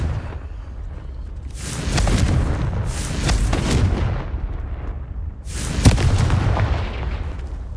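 Spell explosions from the Confringo blasting spell in the Hogwarts Legacy video game, three loud booming bursts a few seconds apart, each with a crackling tail, over a low continuous rumble.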